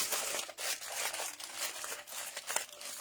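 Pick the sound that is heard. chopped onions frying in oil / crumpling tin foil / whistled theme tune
crumpling tin foil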